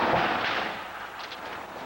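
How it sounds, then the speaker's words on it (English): Gunfire aimed at a truck convoy: a dense, continuous rattle of shots and blasts runs through the whole moment, rough and fairly close. "Then more shots and an explosion."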